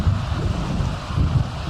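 Waves on Cauldron Lake in the game Alan Wake Remastered, a continuous low rumbling wash of water and wind with gentle swells in intensity, heard alone with no voices.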